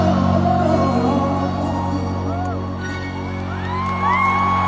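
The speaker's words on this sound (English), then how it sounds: "Did you hear them singing?" Huge Filipino concert crowd singing along in unison, a dense, loud roar of many voices with cheers and whoops rising above it, sustained throughout under amplified music.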